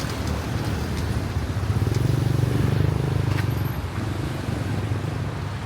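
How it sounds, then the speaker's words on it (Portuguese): Motorbike traffic in the streets of Chiang Mai city: an engine drone swells as a motorcycle passes close by, then fades back into the street background. "Tem bastante moto na cidade, bastante moto, o pessoal usa."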